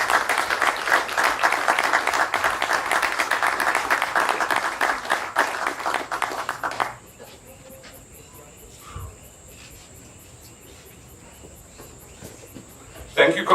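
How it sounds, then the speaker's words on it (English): An audience at a security company's awards ceremony applauds for about seven seconds, a steady, fairly loud round of clapping that cuts off into a quiet room. "Please applaud Senior Superintendent David Abraham."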